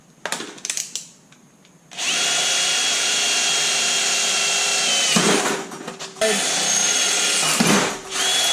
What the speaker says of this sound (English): now we actually have a drill battery and we can drill through this now.